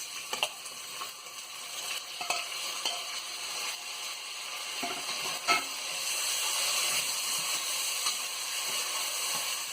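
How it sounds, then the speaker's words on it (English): Chana masala with freshly added tomatoes sizzles and hisses steadily in a pan, with occasional soft scrapes and knocks of a spoon stirring through the mixture. "give it a mix, add the tomatoes"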